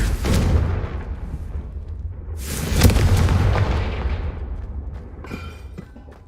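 Two Confringo blasting spells in Hogwarts Legacy go off in quick succession, each a heavy booming explosion with a rumbling tail, followed by a fainter crackle near the end.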